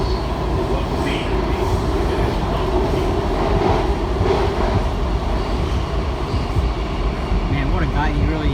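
A Kawasaki 7000-series metro train, car 7148, rolls toward Gallery Place Chinatown with a steady loud rumble of wheels and motor hum, heard from on board, a constant roar with faint rising whine near the end.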